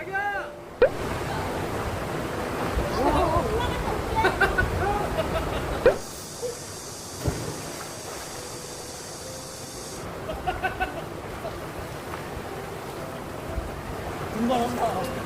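A cool valley stream rushes with steady broadband hiss and splashing water while several people nearby talk and exclaim over it.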